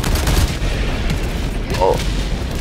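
Airstrike explosions land in Helldivers 2 during a bug-fighting mission, heard as heavy rumbling booms that fill the short span, loud and close, with faint voices under them.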